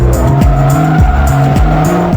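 A Bugatti Veyron with an 8-liter, roughly 1,000-horsepower all-wheel-drive engine races in Forza Motorsport 3, loud and close, the engine note climbing and dropping repeatedly through rapid gear shifts with tire squeal.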